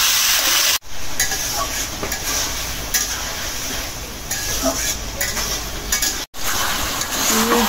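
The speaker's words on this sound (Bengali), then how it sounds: "টমেটো একটু কষাই নিলাম" Tomatoes sautéing in a hot pan, a loud, steady sizzle with scraping stirs and utensil clinks throughout, briefly cutting out twice.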